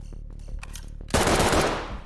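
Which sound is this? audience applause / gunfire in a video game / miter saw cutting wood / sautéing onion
gunfire in a video game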